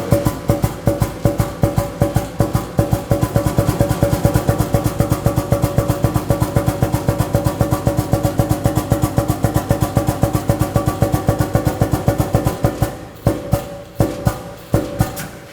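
A pneumatic ATEX drum mixer for 200-litre drums rotates a cylinder at slowed speed, producing a loud, rapid, regular chugging pulse that runs steadily and then breaks into a few slower, spaced beats at the end.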